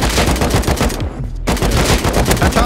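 Rapid, loud automatic gunfire from a player shooting in the survival game Rust, a dense continuous burst with a brief gap near the middle before the firing resumes.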